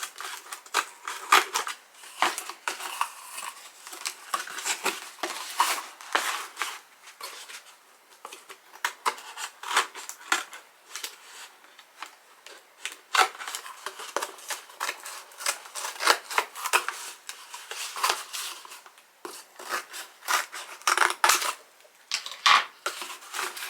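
Blades cut along a barely scored line before the piece is folded in. A steady, close crinkling and snipping rustle continues for over twenty seconds with no speech.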